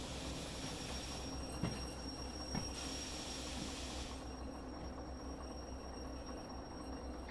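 Steel train wheels squeal as a locomotive brakes in the Derail Valley train simulator, a steady high-pitched screech over low rumbling rail noise that runs for several seconds, with a couple of faint clunks and no voices.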